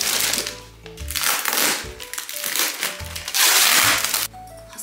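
A compact Hug Mochi Premium body pillow is pulled from its plastic bag, with loud, close crinkling and rustling of plastic in uneven bursts and brief pauses between them.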